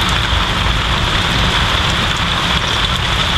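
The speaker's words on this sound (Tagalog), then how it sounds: "Okay lang sana pag ambon-ambon lang. Sumubra yung ulan." Heavy rain pours down in a steady, loud, dense hiss with scattered drops pattering on surfaces, unbroken from start to finish and with no one talking.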